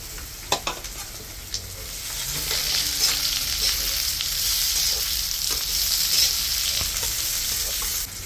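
Slit green chillies sizzle in hot oil in a pan for a fish curry, along with potatoes. A few sharp stirring knocks are followed by a steady, close frying hiss that lasts throughout.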